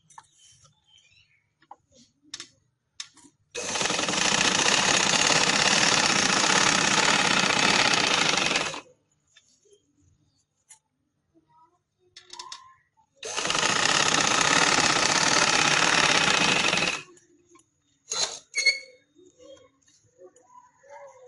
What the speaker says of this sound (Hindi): इसी तरह मैं सिलाई लगा के फिर दूसरी सिलाई भी लगा लूंगी।